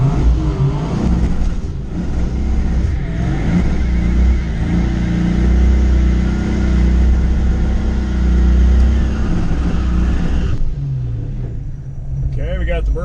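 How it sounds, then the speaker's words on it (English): A Foxbody Mustang with a swapped 408 Clevor V8 roars through a burnout at a track day, a loud sustained low rumble that swells and holds before cutting back near the end, with speech faintly present. "Okay, we got the burnout in."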